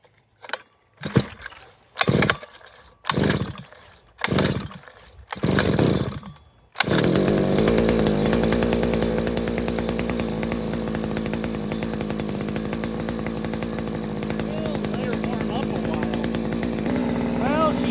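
Several sputtering pull-start attempts, then a Henghai 2.5 HP outboard motor catches on its first start and runs loudly and steadily, a buzzing engine drone filling the rest.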